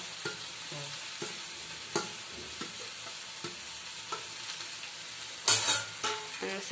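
Potato-filled bread patties fry in a pan, giving a soft steady sizzle with scattered clinks and scrapes of a utensil, and a brief louder hiss near the end.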